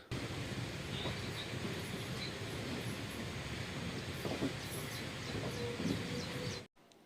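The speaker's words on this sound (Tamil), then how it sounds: "இப்போ எலக்ட்ரிக் இன்ஜின் தாங்க ஓடிட்டுருக்கு" The Semmozhi Express, hauled by an electric engine, runs along the line with a steady broadband rumble and rush, faint bird chirps above it, before the sound cuts off abruptly near the end.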